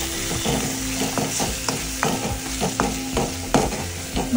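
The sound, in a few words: frying and stirring spices with tomato chilli paste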